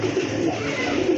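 A pair of pigeons coos in a dense, low, rolling drone that fills the moment, fairly loud and close, with no speech.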